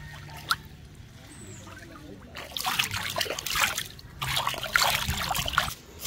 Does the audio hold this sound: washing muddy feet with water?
yes